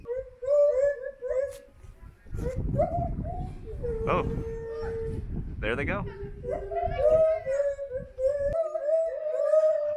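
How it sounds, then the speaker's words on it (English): Howler monkeys at Kujukushima Zoo and Bio Park let out long rising and falling howls. The calls carry loud and layered over several seconds, with people talking nearby before and after. "I can hear howler monkeys"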